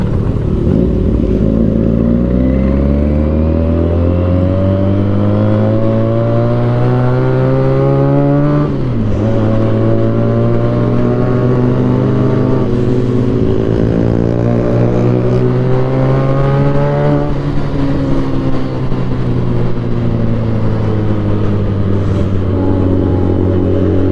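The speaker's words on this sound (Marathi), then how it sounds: "आवरा गाडीचा आवाज कसलं खतरनाक." A car engine revs hard at a grand entry event in Satara, loud and close, with a steady growl that repeatedly sweeps up in pitch through several throttle surges and never drops to silence.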